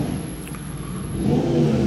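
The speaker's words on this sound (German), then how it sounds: "Motorrad." Motor engine hum swelling as it approaches and passes, a steady mid-pitched drone rising toward the end, heard alone outdoors.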